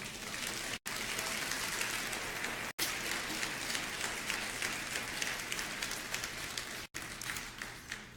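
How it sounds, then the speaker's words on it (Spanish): A church congregation applauding the Lord during a Spanish-language Sunday service, a steady, hissing wash of many hands clapping at moderate distance, briefly cut by a few abrupt dropouts. "Entonces, cuando dale el aplauso al Señor."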